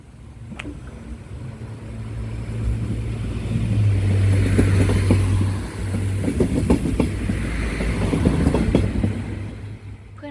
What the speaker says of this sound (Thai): นั่นรถไฟมาละ